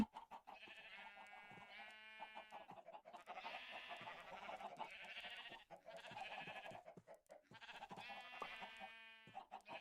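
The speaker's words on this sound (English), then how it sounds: "All the sheepies! And the cows! They're all just yelling." Sheep and cows in Minecraft keep up a chorus of repeated bleats and moos, several overlapping calls in bursts separated by short gaps, fairly quiet and with no talk.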